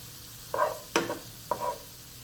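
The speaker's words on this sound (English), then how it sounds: "Just mix it in until you don't see the flour anymore." A spoon stirs flour into cooked Impossible plant-based sausage in a pan, making three distinct scraping strokes over a faint sizzle, close and clear with no talking.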